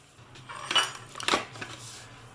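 Soya chunks are spooned into a bowl, giving two or three close clinks and scrapes of a spoon against the dish, then a quiet pause with a low hum behind.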